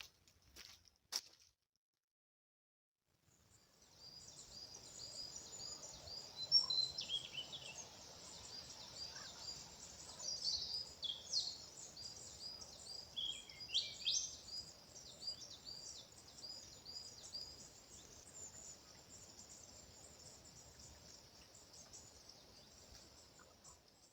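Robin and blackbird song in Sherwood Forest in January, thin high chirps and trills drifting at moderate distance over a soft, steady woodland background, with a brief quiet gap near the start.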